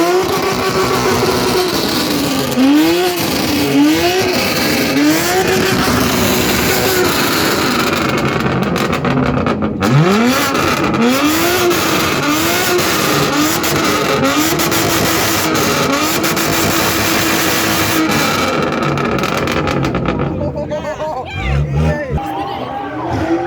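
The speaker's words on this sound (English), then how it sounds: "This M2 sounds spectacular." A BMW M2 revs hard at a car meet, its engine rising and falling in repeated loud bursts close by over a crowd's chatter and babble, then cutting off near the end.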